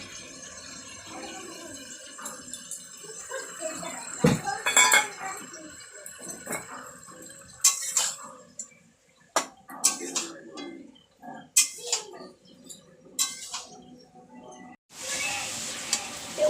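A small bowl crusted with cumin is rinsed, and the water is poured into a pan of sizzling aloo dum. Scattered clinks and splashes give way to a loud, hissing sizzle near the end, with some faint talk.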